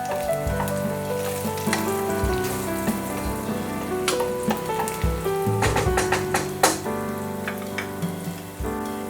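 Onions browning in a frying pan for a Goan beef roast crackle and sizzle beneath loud, prominent background music, with irregular popping spits throughout.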